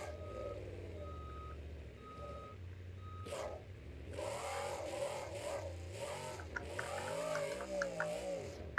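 Monster truck engine in BeamNG.drive at a Monster Jam event in Reno, Nevada, revving and surging as the truck lines up and pulls a wheelie, with a steady reversing beep early on under loud, continuous engine roar.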